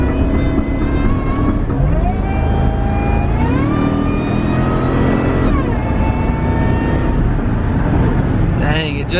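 Turbocharged Ford SVT Lightning pickup accelerating hard, its loud engine note climbing steadily in pitch and dropping briefly at gear shifts, continuous and close throughout.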